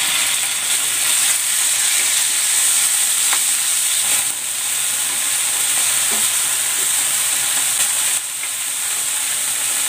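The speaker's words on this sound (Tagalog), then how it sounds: "Maglalagay ako ng cooking oil. Ipan-fry ko muna itong pork." Pork frying in hot cooking oil in a pan, giving a steady, loud, continuous sizzle and hiss with faint stirring clicks and no voices.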